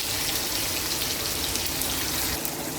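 Shrimp drop into a pan of sautéed garlic, onion and tomato, setting off a dense, loud, close sizzle that hisses continuously, like heavy rain, with no talk.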